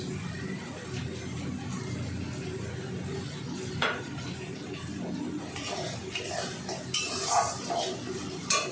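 Spice masala being stir-fried in a pan over a medium gas flame, with soft scraping and clinking of a utensil against metal, light sizzle and occasional sharper taps that grow busier toward the end.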